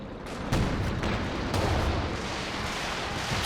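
A walking Stuka rocket barrage in a Company of Heroes 2 2v2 match pounds away as a dense, continuous roar of overlapping explosions, with several heavier blasts punching through the rumble.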